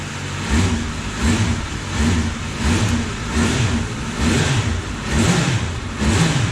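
Yamaha TDM 850 motorcycle with 48,000 km and a fluid clutch, engine revving in repeated swells, rising and falling roughly once a second at close range with a steady mechanical rumble underneath and no talking.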